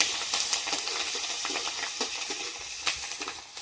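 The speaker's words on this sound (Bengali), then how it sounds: "এইভাবে কাঁচা ঝালগুলো ভেজে দিলি ভালো লাগে থাকি" Green chilies frying in hot oil in a Bengali fish dish, giving a steady close hiss with scattered crackles and pops throughout, no voices.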